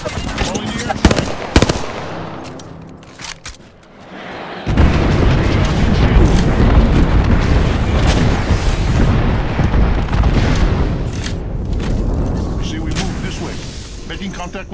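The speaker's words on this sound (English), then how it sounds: "Calling the airstrike." Apex Legends airstrike: rapid gunfire bursts give way to a long, dense roar of rolling explosions that fills the second half, loud and continuous.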